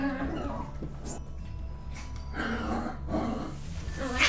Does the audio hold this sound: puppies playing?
yes